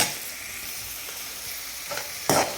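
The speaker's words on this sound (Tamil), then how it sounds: "இந்த ஸ்டேஜில் நான் அந்த குடமிளகாய் வந்து போட்டுக்கிறேன்." Capsicum sizzling and frying with onions in a pan, a steady close hiss with a sharper burst of stirring near the end and no voices.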